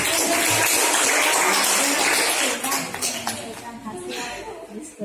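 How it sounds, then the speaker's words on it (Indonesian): A school class applauds after a student presentation, a dense burst of clapping that is loud at first and thins out over the last seconds, with voices in the room underneath. "Tepuk tangannya."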